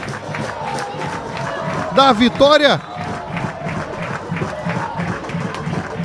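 Home supporters of Nova Venécia fill a youth football final with steady crowd noise and a brief loud chant in the middle, while a commentator talks over the top.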